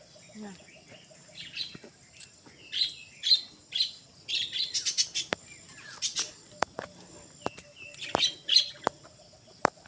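Birds chirp and tweet in an eco park during a morning walk, bright repeated calls coming in bursts at moderate distance, with a few sharp clicks and faint voices in the background.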